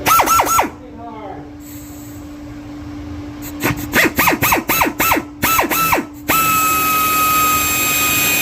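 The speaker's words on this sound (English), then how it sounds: "I'll drill a hole out, put a tap in there" A power drill boring a hole into a Jeep Cherokee 4.0 AMC cylinder head, with repeated short whining bursts that rise and fall as the trigger is pulsed, close and loud, ending in a sustained steady whine.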